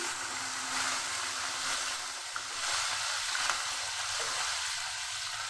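Cauliflower fries in a pan with salt and turmeric, giving a steady, close, broadband sizzle that hisses on without pause, with faint stirring movement underneath.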